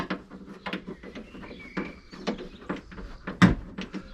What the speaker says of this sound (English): We're going to undo these bolts.